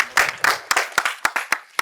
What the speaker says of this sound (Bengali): জোরে হাততালি ওর জন্য একটা।